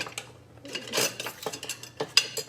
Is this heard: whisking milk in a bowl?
yes